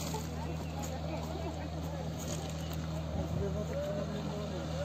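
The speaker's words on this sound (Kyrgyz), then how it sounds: "Үч кайык бириктирилип мотор коюлуп мында ташып атат." A motorboat built from three joined boats, ferrying people and stones across a lake: a steady low engine drone runs throughout, with water noise and faint distant voices behind it.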